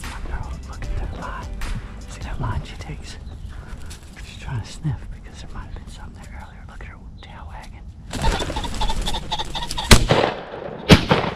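A gunshot fired while hunting birds with a German Shepherd outdoors, heard as sharp loud cracks near the end after a stretch of quiet rustling and low voices.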